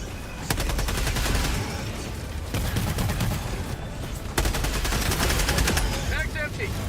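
A video game sentry gun firing in long, continuous rapid bursts, loud and close, with short breaks between volleys and occasional speech underneath.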